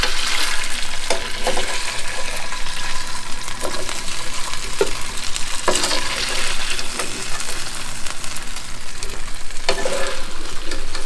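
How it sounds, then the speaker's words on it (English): Pork spare ribs browning in a hot pan, a loud, close, continuous sizzle with occasional sharp crackles and the clatter of stirring, no voices. "now I'm going to continue browning more of the meat"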